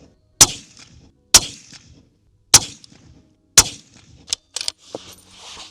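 Four loud, evenly spaced rifle shots ring out from a SIG Cross Trax .308 firing Hornady ammunition, each with a short decaying echo, followed by a few quicker, lighter cracks and clanks that fit rounds striking steel.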